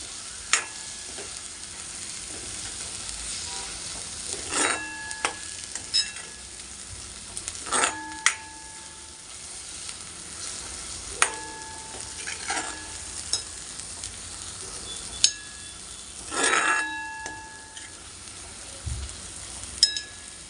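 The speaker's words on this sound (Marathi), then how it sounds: "आपण शेंगा टाकून घेतल्या आहेत आणि परतून घेणार आहोत" Drumsticks sauté in oil in a pan under a low continuous sizzle, with repeated sharp clinks and scrapes of a spoon stirring against the pan throughout.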